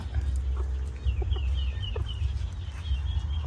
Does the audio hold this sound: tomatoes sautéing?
no